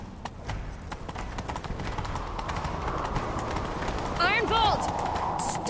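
Roach, Geralt's horse in The Witcher 3: Wild Hunt, gallops with rapid, steady clip-clop hoofbeats that build slightly, with a voice briefly heard near the end.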